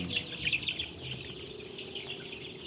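Chickens at their drinking water during a Gumboro and ND vaccine dose give soft, busy clucks, a close flock murmuring continuously without any voices.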